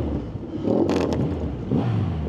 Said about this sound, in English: I can hear him revving that.